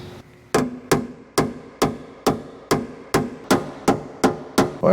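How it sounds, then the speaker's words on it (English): A hammer strikes the edge of old car body sheet metal about a dozen times in a steady rhythm, each blow a sharp, ringing clang up close. "I'm hammering on this edge to relieve the stress"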